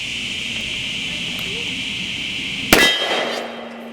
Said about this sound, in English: let's see if we can hit this steel now.